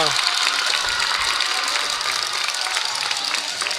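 A basketball crowd in a packed gymnasium cheers loudly and without a break, a dense, steady roar of noise at a women's college playoff quarterfinal, with a commentator's voice partly mixed in.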